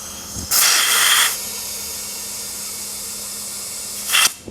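Two loud bursts of air hissing into a Rupp mini bike tire being inflated, a longer one followed after a pause by a shorter one, with a faint steady background in between.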